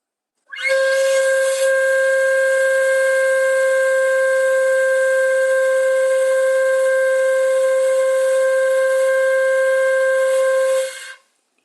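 A student's sustained note on a bansuri, the North Indian bamboo flute, held steady and bright for about ten seconds with a strong clean tone, then fading out at the end.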